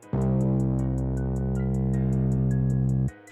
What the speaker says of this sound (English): Originally, I got this OG bass.